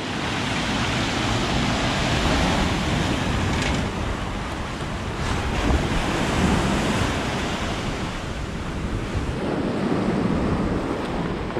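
Sea waves wash onto a beach at Sudak, Crimea, with the water reaching up to the steps. The small waves make a steady, continuous roar of surf, mixed with wind rumble and no talk.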